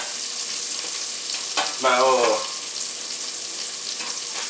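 Sausages fry in a pan without oil, giving a steady, bright sizzling hiss throughout, with a brief squeak or stirring sound near the middle.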